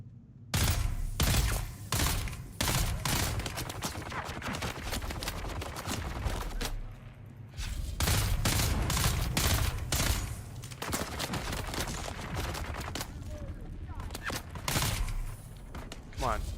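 Gunfire in the Dune: Awakening video game comes in rapid close bursts of shots and thumps, loud and dense, with a player talking over the firing and brief lulls between volleys.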